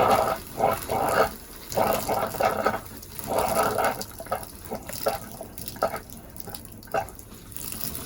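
RV antifreeze running from a camper faucet into the bathtub, which drains to the gray water tank, heard as an uneven, intermittent splashing trickle at moderate distance with pauses in the flow.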